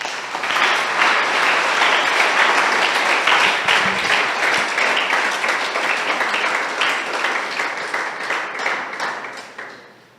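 A church congregation applauds during a Spanish-language service, dense sustained clapping filling the space steadily for about ten seconds before tapering off at the end.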